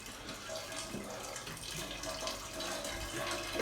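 A shower tap runs in a short, steady, fairly quiet hiss of falling water, with faint clatter and no speech.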